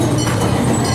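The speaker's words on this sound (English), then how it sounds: "So here we are on the train, Candy Cane train." A ride aboard the Candy Cane train at the Birmingham Zoo, with a steady low rumble of the moving train running continuously through the short stretch and no talk.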